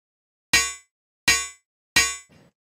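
A bounced, processed metallic snare in the style of SOPHIE: three sharp, bright clanging hits about three quarters of a second apart, each ringing briefly and fading, with a faint rattle after the last one.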